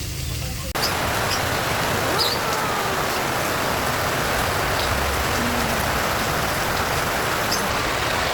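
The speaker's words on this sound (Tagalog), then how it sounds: "Ang lakas ng ulan" Heavy rain pours down in a dense, steady hiss, close and constant throughout, starting abruptly after a brief quieter moment.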